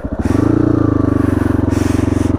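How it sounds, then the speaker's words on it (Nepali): A motorcycle engine fires and settles into a loud, close, steady idle with a rapid, even pulsing throb, no talk over it. "मैले बाइक स्टार्ट गर्छु"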